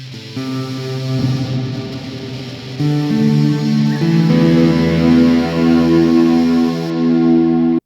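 An electric guitar plays sustained chords and notes drenched in Ableton Live reverb placed after the amplifier, the tones ringing and blending into a washy tail, loud and steady throughout.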